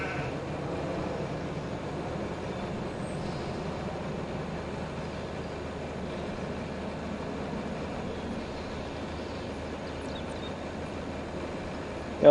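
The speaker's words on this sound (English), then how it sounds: "The sheep are going to need water." Sheep bleat in Farming Simulator 25, mixed into a steady, dense game soundscape that holds at an even level for the whole stretch, with a sudden loud burst right at the end.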